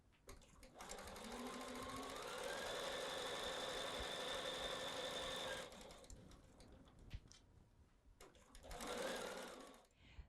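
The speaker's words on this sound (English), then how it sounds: "So I'm going to keep sewing my block together." A sewing machine stitches pieces of a quilt block together, a steady close whirring run for about five seconds that stops, followed by handling noises and a second short burst of stitching.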